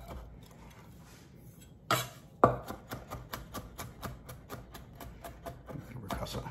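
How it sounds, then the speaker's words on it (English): A knife chops food on a cutting board while grilled Caesar wings are prepared. A couple of sharp thuds come first, then a steady run of quick, even cuts taps along with close, crisp clarity. "we're just going to chop it up"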